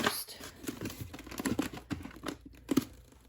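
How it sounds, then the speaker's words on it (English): Packing tape pulled and pressed onto a box holding a 1999 Seraphim Classics figurine, crinkly ripping bursts and short crackling pulls in an irregular rhythm, close and moderately quiet. "So I will be taping that"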